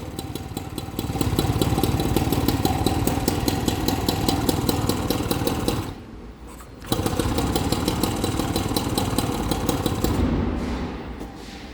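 An old moped engine with points ignition idles steadily through its exhaust, a rapid even putter that cuts out briefly near the middle, then picks back up.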